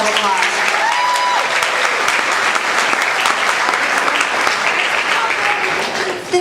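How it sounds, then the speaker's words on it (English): An audience at a high school awards ceremony claps for award winners: a dense, sustained burst of applause from a crowd, holding steady and tapering near the end. "Let's give them all a big round of applause."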